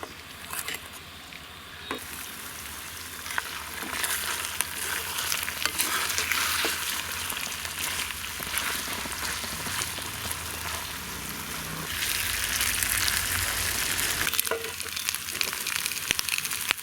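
Steady oil sizzling and crackling as fish fries in a pan, continuous and fairly close, with occasional light stirring or scraping sounds.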